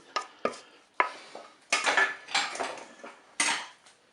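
A metal cake mould set down into the bowl of a Cookeo multicooker, heard as a few sharp clanks and rattling knocks, close and fairly loud, with no talking.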